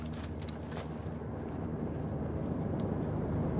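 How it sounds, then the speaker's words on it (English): A helicopter approaching in Call of Duty Modern Warfare 2, a steady low rotor and engine rumble that slowly swells, with a few faint clicks on top. "Got a heli incoming"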